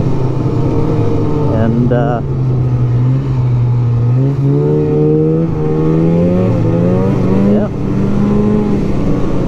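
Two-stroke engine of a 1999 Polaris Indy Classic 500 touring snowmobile droning steadily on a test drive, pitch rising and falling as the throttle changes, with someone talking over it.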